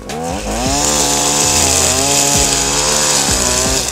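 A brush cutter cutting grass at high, steady revs, its engine a loud close whine held for several seconds with brief dips where the blade bites into the growth.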